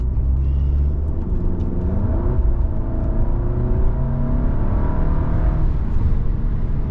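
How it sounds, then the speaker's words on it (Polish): A VW Passat B8 2.0 TSI with a fitted downpipe drives with a loud, continuous engine and exhaust drone, rising and falling through revs with a whirring tone, heard close and alone without talk. "bardziej głośno jest na pewno, tak bardziej drapieżnie silnik"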